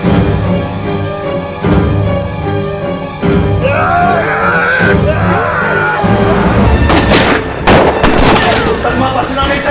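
Gunfire in a dramatized gang shootout in Maharajganj, UP, with repeated loud bangs and bursts over constant dramatic music and loud shouting voices.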